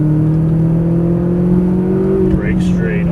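McLaren 570S Coupe engine droning steadily under hard throttle on a track, a strong sustained tone that climbs slightly in pitch, loud and close, with a driving instructor talking over it.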